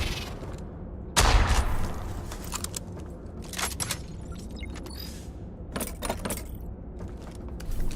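Video game shooter gunfire: a strong shot with a heavy low thump near the start, followed by scattered sharper cracks and mechanical clicks over a constant background hiss.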